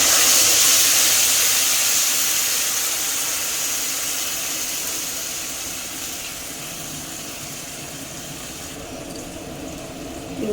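A ground paste of ginger, cumin and tomato hits a hot pan and erupts in a loud, broad hissing sizzle that slowly settles and softens over several seconds, with no talking.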